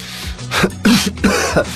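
A single loud, close sneeze bursts out in a couple of sharp explosive sounds from a person in a dubbed Hindi drama scene, with no talk over it.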